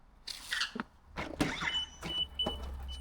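An InMotion P6 electric unicycle's motor over-torquing with the wheel off the ground, giving a few sharp whirring squeals in quick bursts up close, with some rattling and scraping between them.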